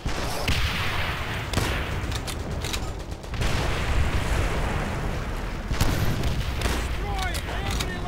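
WWII combat gunfire from Call of Duty: World at War on PC: a dense, continuous barrage of shots and booming blasts that briefly thins, then surges again, with someone talking over it.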